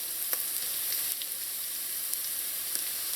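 Garlic and browned onions frying in a pan, a steady bright sizzle with faint crackles and occasional light clinks, close and continuous without talking.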